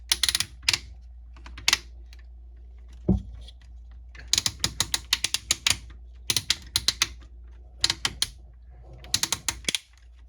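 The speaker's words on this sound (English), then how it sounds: "These are kind of smaller ratchets." Small ratchet joints on a Transformers War for Cybertron Siege Jetfire toy click in quick, crisp runs of close, dry ticks, pausing briefly between bursts.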